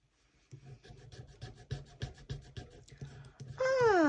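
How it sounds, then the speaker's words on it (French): Quick, rhythmic scraping strokes across a scratch-off card from a savings challenge, soft and close, followed by a rising and falling voice-like whine at the end. "Alors, on va gratter ça déjà pour savoir combien je dois mettre."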